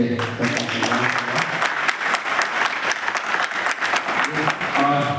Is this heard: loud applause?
yes